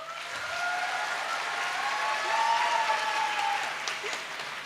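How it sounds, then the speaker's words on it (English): Audience applause at a talk and live meditation event, a steady wash of many hands clapping at moderate loudness, sustained for several seconds with no pauses. "कुछ ताली तो बजाओ यार"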